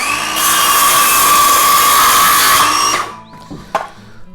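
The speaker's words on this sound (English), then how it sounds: "you run the blade or the saw along that, and that gives you a perfect cut" A circular saw cuts through timber with a loud, sustained whine for about three seconds, then winds down, leaving faint workshop clatter. No one speaks.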